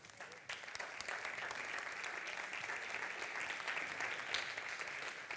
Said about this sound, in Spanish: otro aplauso para Hilda Lobe